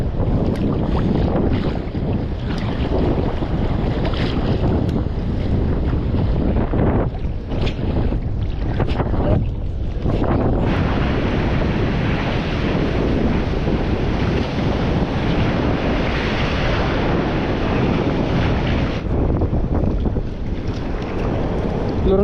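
Strong water rushing and waves slapping around a fishing boat out at sea, with steady wind buffeting the microphone, loud and continuous for the whole stretch, no voices.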